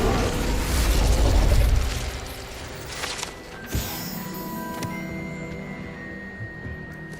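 Incendio fire spell cast in Hogwarts Legacy: a loud whooshing fiery burst up front, then fading crackle, a sharp impact thump and ringing magical tones trailing off.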